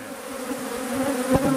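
Honeybees buzzing at a Kenyan top-bar hive in Nialeya Village, Guinea, a close, steady drone of many wings with a brief louder pass near the end.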